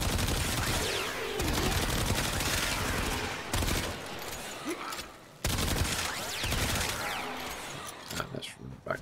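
Rapid automatic bursts from the Aeolak assault rifle in standard fire mode in Warframe, dense rattling volleys separated by brief pauses, loud and close, with in-game sounds underneath.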